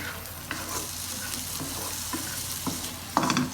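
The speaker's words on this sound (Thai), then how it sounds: "ผมจะลวนกุ้งให้สุกนะครับประมาณนึงเลยนะแต่ว่าไม่ถึงกับแข็งนะครับ" Shrimp stir-frying in a hot pan, with a continuous sizzle broken by a few scraping stirs and a louder clatter near the end, close up and with no talking.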